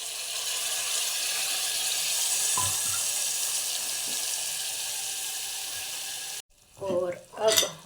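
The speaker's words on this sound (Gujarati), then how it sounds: "હવે આપણે એનામાં નાખશું થોડું પાણી." Water pours into a stuffed brinjal curry in a pan, a continuous close hiss and splash for about six seconds before stopping, followed by brief soft clatter and a voice.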